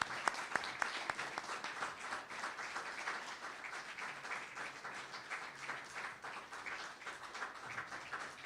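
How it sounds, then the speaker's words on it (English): A warm round of audience applause at a Utah recognition event honoring Jared Kwan, a continuous wash of many hands clapping at moderate, even loudness. "Ladies and gentlemen, please give a warm round of applause for Jared Kwan."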